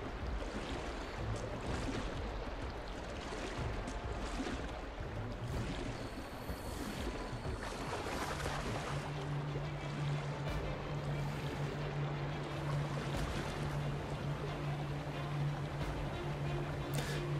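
A canoe moves over river water in the video game Assassin's Creed Liberation, giving a steady wash of flowing water and splashing at moderate level, with no talk over it.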